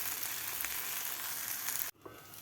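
Mung dal breakfast pancake frying on a pan over medium gas, a steady soft sizzle that cuts off abruptly near the end, leaving faint residual hiss, no voices.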